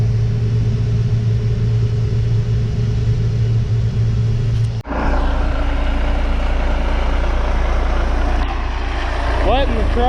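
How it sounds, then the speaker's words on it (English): A farm truck idles with a steady low diesel rumble while its air system builds pressure, then a sharp hiss and shift in tone midway as the engine note continues, loud and close. "Letting the truck air up"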